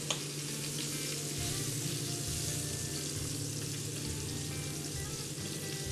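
Homemade meatballs fry in hot oil, a dense, continuous sizzle with a faint low hum beneath, heard up close and without any talking.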